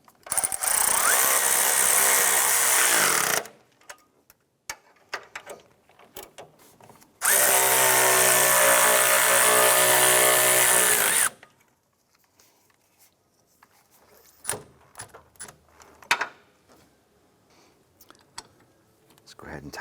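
A power tool whirs hard in two long bursts of several seconds each while tightening engine torque strut mount bolts on a 2006-2013 Chevrolet Impala, with quieter clinks and handling noises between and after.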